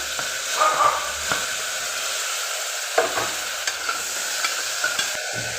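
Tomatoes frying in a pan for a chickpea biryani, giving a steady sizzle and hiss with occasional stirring scrapes and taps against the pan.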